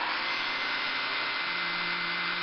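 A hair dryer blows close by, drying gloss black paint on a Corgi police Riley Pathfinder model car, a steady, loud rushing whoosh with a low hum and no talking.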